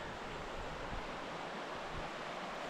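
Flowing creek in remote Idaho trout country, a steady, even rush of water holding at a constant level throughout with no talk.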